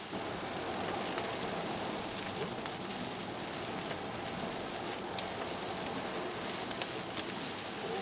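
Rain patters steadily on the outside of a Hyundai Ioniq 5 while it is being driven, a faint continuous hiss with scattered drop ticks.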